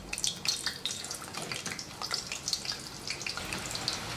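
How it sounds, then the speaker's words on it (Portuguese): Potatoes fry in hot oil, giving a close, steady crackling hiss with a dense scatter of sharp pops and bubbling spits throughout. "Então agora a gente frita a nossa batata, né?"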